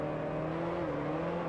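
Connaught Type B 1955 Grand Prix racing car in a racing simulator at Brands Hatch, a steady, buzzing engine drone at fairly constant revs, heard alone for a brief moment.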